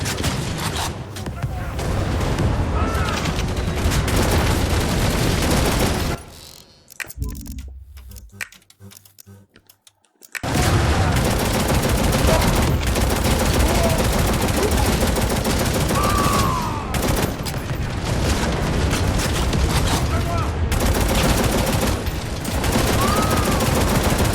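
Dense, loud gunfire from the video game Necromunda: Hired Gun rattles almost continuously in rapid bursts, with a brief quieter lull in the middle before the shooting resumes.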